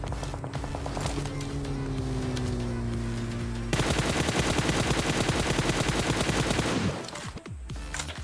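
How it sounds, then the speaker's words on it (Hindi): In PUBG Mobile on a phone, rapid automatic gunfire rattles out in a loud, dense burst that lasts several seconds before stopping, while an engine drones steadily beneath it. "तो एक बंदे ने बिना फालतू फायर कर दिया।"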